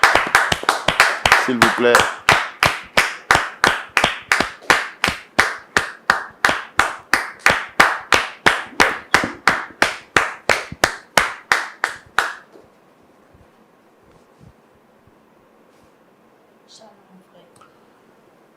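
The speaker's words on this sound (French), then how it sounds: "Merci de recevoir Dame Ekissi Rose sous nos applaudissements" A television talk-show studio audience welcomes a guest with loud, tightly synchronised rhythmic clapping, roughly two claps per second for about twelve seconds, then it stops abruptly, leaving a quiet room with a few brief spoken words.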